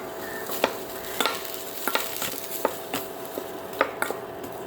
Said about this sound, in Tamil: தேங்காயை லேசாக வறுத்து எடுக்கணும்.